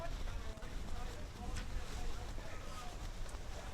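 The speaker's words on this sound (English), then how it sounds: "a good stiff breeze blowing in towards the plate, at times gusting in" A stiff breeze gusting across a baseball field at a Legion game, a steady roaring wind rumble buffeting the microphone throughout, with no clear talk.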